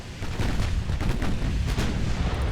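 Heavy naval gunfire from battleships in the warship game Ultimate Admiral Dreadnoughts, a dense, continuous rumble of booming shell salvos with repeated sharp blasts layered over a low roar.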